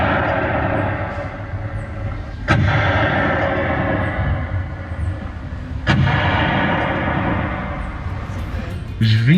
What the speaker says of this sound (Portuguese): Os 21 tiros de canhão eram dados do Forte do Presépio